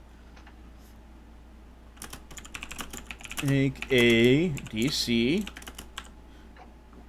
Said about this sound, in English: Just be careful how fast you're typing.